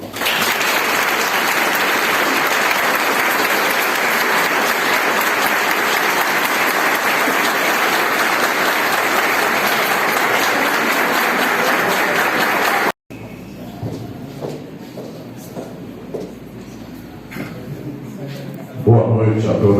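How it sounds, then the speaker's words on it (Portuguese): A lecture audience at a book launch applauds to welcome a speaker onto the stage, with loud, dense, steady clapping for about thirteen seconds. It cuts off abruptly and gives way to quieter room sound and a voice. "sob nossa salva de palmas"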